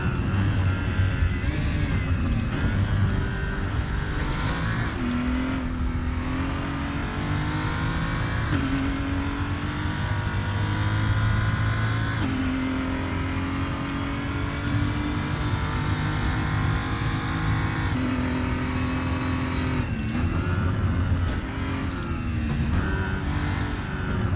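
BMW 235i race car in the Raceroom sim at the Bilsterberg circuit, its engine droning loud and steady throughout, rising and falling through gear shifts and revs, close and continuous with no voices.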